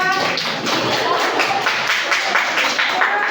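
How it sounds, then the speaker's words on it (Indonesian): A classroom audience during a university teaching-practice exam claps for a contestant, with fairly loud, rhythmic hand clapping running throughout and children's voices mixed in. "tepuk tangan untuk nomor 2"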